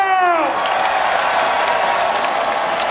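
A stadium crowd at Nathan's Hot Dog Eating Contest, the 2015 event where Matt Stonie beat Joey Chestnut, bursts into loud sustained cheering and applause. A brief tonal sound fades at the start and the roar then holds steady.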